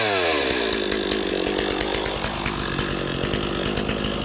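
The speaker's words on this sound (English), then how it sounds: "you gotta rev up the chainsaw as soon as you start it" A chainsaw runs loud and close, engine revving and settling in a steady buzzing drone with rapid pulsing firing strokes throughout, no voices over it.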